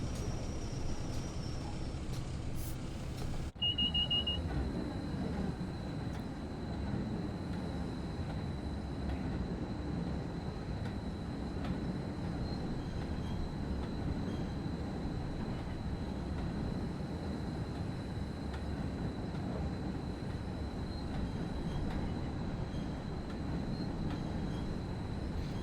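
A heavy coal freight train on the WCML between Crewe and Preston in Train Sim World 6 rumbles steadily. Its rear brakes apply with a delay, adding a sustained high squeal and grinding over the continuous rolling noise.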